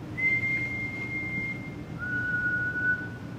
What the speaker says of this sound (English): maybe I can try whistling higher.